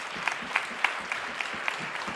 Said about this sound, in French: on peut les applaudir, c'est vraiment un gros défi